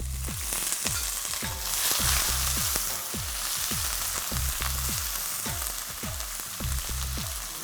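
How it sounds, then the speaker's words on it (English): Onions fry in a pan with cardamom seeds and cloves, a constant close sizzle punctuated by regular sharp clicks, as if stirred with a utensil. "I've got cardamom seeds, and that's cloves, and I'm going to put in the onions."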